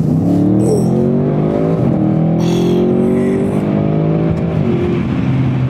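A 2022 Audi RS6 wagon with a twin-turbo V8 accelerates hard, its engine note climbing through rising revs with a brief shift partway through, loud and close from inside the car, with no talking.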